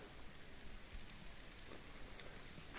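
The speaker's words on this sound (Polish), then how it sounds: "Zaczyna padać. Coraz bardziej." Rain beginning to fall outdoors at night, a steady soft patter of drops on surfaces that stays quiet and even throughout, with no voices.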